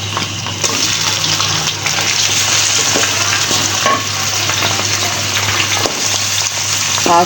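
Chicken hits browned onions in a karahi, setting off a loud, continuous sizzle and frying hiss with stirring scrapes throughout, close and unbroken.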